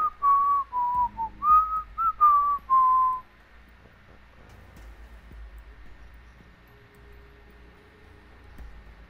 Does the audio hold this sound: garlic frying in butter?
no